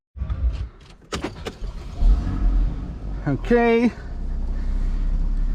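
Porsche Boxster 981 being driven after repairs, low engine rumble with cabin clicks and a brief electronic chime, with a voice speaking briefly over it.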